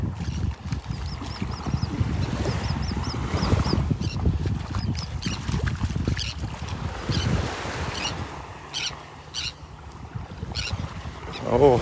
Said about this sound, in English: Noisy, noisy seagulls.